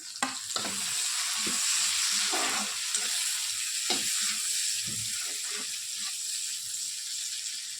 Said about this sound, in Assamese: পিঁয়াজখিনি ভালকৈ ভাজি হোৱাত মই বিলাহীখিনি ইয়াত দি দিছোঁ।